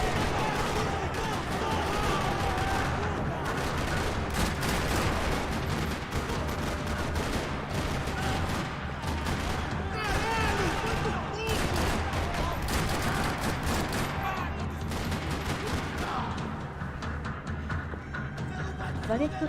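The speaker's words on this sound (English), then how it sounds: "Another parking lot rattling with gunfire." Gunfire in a parking lot in the video game Max Payne 3: dense, continuous rattling shots under a loud game soundtrack throughout, with speech-like sounds mixed in.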